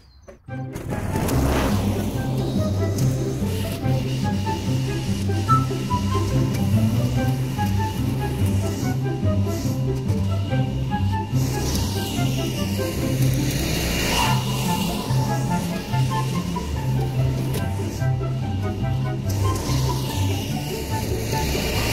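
A Husqvarna YTH21K46 riding lawn mower runs across a bumpy yard, its engine giving a loud, continuous, slightly pulsing drone from start to finish.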